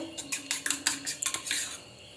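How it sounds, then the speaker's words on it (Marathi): Rapid metallic clinking of a utensil whisking eggs in a bowl, a quick irregular rhythm of taps up close, no voices. "हे अंड जे आहे ते आपण फेटून घेतलेलं आहे"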